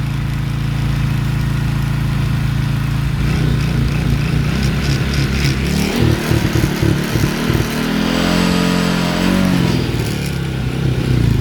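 A ten-year-old, well-maintained motorcycle engine runs loud and close, with a steady idle drone that rises into light, unhurried revs partway through.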